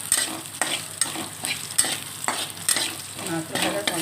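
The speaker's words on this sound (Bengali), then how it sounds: "সেই শুকনো নারকেলটা দিয়ে ভাজা করছি" Dried coconut frying in a pan with a five-spice tempering, soft sizzle broken by repeated scraping stirs of a spatula every half second or so, close and fairly quiet.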